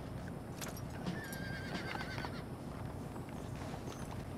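Horse riding in the video game Red Dead Redemption: a horse whinnies and hooves clip-clop at a steady pace over a dense, continuous game soundscape, with no talk.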